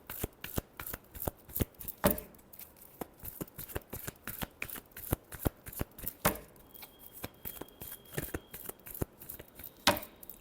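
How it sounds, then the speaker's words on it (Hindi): Tarot cards being shuffled by hand, a fast run of crisp riffling flicks and slaps repeated steadily throughout, close and fairly loud with no voices. "last shuffle"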